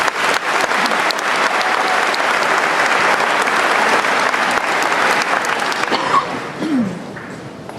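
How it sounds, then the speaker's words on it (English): Audience applause fills a high school graduation ceremony, steady dense clapping from a large crowd that holds strong throughout and thins slightly near the end. "If you could please give them a round of applause."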